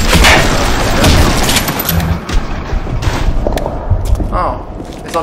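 Rapid gunfire from a turret in the video game BioShock, a loud, dense fusillade of booming shots that runs continuously for several seconds, with heavier thuds mixed in.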